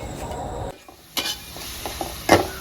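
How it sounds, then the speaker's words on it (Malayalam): A spoon stirs ground paste into onion and tomato for a homestyle sardine curry, giving a few scraping, clinking strokes over a soft sizzle, with a quiet pause in the middle. "ഇനി നമുക്ക് അരച്ച് വെച്ചാൽ പേസ്റ്റ് ഇടാം നന്നായിട്ട് ഇളക്കി കൊടുക്കാം"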